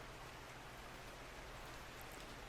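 Steady rain from the video game Makoto Wakaido's Case Files, a soft, even wash of falling drops that continues without a break, with no voices over it.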